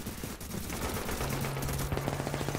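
Rapid automatic gunfire from the shooter video game Tom Clancy's The Division, dense repeated shots running continuously, with a steady machine-gun rhythm in the second half.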